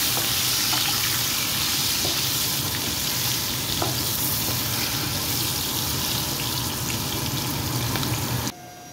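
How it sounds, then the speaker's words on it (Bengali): Potato pieces fry in oil in a pan over medium heat, a steady, dense sizzle that fills the whole stretch, close and fairly loud, with no talking, cutting off abruptly near the end. "আলুগুলো মিডিয়াম হিটে ভেজে নেবেন।"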